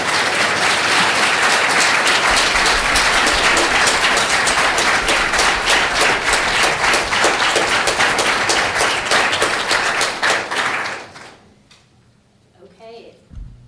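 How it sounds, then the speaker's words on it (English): An audience at a panel discussion on LGBTQ rights claps loudly and continuously for the panelists, a thick sustained ovation that fades out near the end, leaving quiet room sound and a faint voice. "let's please give our panelists a round of applause"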